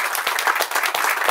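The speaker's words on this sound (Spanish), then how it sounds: "les pido un fuerte aplauso para el compañero Pablo" An audience at a political economy talk in Villa Devoto gives a short burst of dense applause for a speaker, the clapping close and steady with no talk over it.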